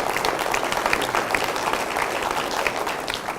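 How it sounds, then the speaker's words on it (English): An indoor audience applauds steadily, a dense wash of many hands clapping at even loudness throughout, with no speech over it. "So you can clap for that."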